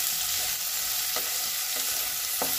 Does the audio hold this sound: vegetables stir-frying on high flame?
yes